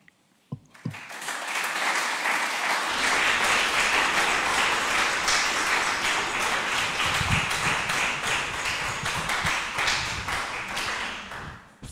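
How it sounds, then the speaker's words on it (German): Audience applause after a talk on photobooks at a conference, a burst of clapping that swells quickly and holds steady and dense for about ten seconds before thinning at the end. "Applaus"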